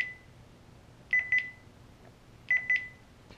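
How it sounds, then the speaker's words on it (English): Radar detector powering back on after a power cycle, sounding two pairs of short electronic chirps about a second apart, faint and close over quiet background. "now I'm power cycling the detector"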